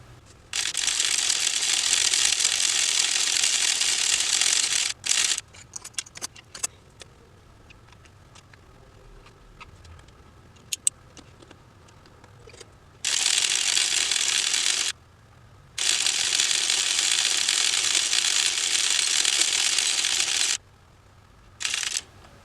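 A circular sock knitting machine cranked by hand gives a steady, close ratcheting clatter in long runs, broken by a quieter stretch of scattered clicks and small mechanical knocks between them.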